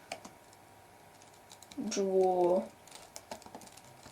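Light, scattered keystrokes on a computer keyboard while Python code is written, soft irregular clicks around a short stretch of a man's speech.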